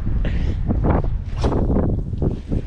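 Strong wind buffets a boat on the water at Buxton, Cape Hatteras, in loud, gusty bursts of rushing roar that swell and fade several times, close and up front.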